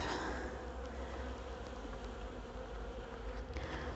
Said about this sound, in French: les mâles commencent à se faire gentiment virer de la ruche